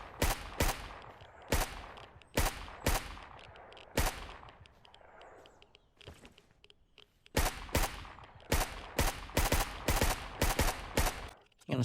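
Rifle gunfire in the zombie survival game Surroundead, a run of sharp, loud shots in quick bursts with a short lull in the middle, then more rapid shots, close and dominant with no talking over it.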